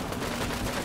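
Gunfire in the wartime game Combat Mission: Red Thunder, set on the Soviet front in 1945. A steady, dense rattle of distant shooting blurs into a continuous noisy wash, fairly quiet throughout.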